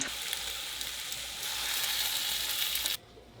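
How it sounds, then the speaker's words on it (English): Hot oil sizzles and crackles steadily as peppers fry, the hiss growing brighter partway through before cutting off abruptly. "You want the oil to be really, really hot before you put in the peppers. You want that sizzle."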